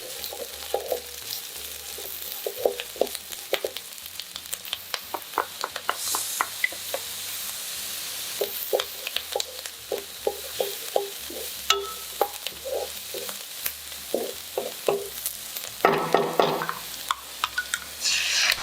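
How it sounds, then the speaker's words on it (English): Onion and crushed garlic sauté in butter in a pan, a steady sizzle with frequent scraping and stirring clicks from a utensil running throughout, close and moderately loud with no voices. "Sauté the onion and crushed garlic until fragrant."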